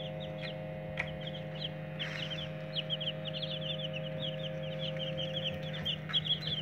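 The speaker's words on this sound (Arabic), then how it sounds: "ادي الكتاكيت 20 كتكوت، جبت لهم سقاية" Twenty white broiler chicks on their first day make dense, continuous high cheeping and peeping over a steady low hum, moderately close with no pauses.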